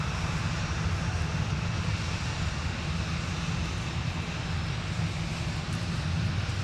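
An airliner's engines roar steadily at MSP airport in the Twin Cities as a flight to San Francisco operates, a broad continuous rumble heard from a distance with no talk.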